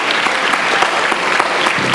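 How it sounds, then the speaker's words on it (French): An audience at the Prix Historia de l'inattendu 2012 prize ceremony applauds the jury presidents and laureates with loud, sustained, even clapping that fills the whole moment without a break. "Vous pouvez les applaudir bien fort."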